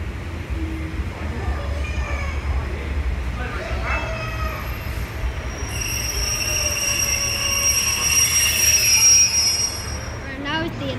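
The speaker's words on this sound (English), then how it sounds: "Arriving now is the 11:52 Great Western Railway service to Paignton from Exmouth." A four-coach Great Western Railway passenger train pulls into Exeter Central station, a steady low rumble of wheels on track with high metallic wheel squeals rising toward the end, loud and close on the platform.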